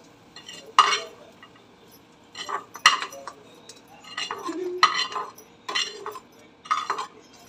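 A spoon scrapes and clinks against a pan while roasted onion, dried coconut and poppy seeds are taken out of it in a home kitchen, in several short metallic bursts separated by brief pauses.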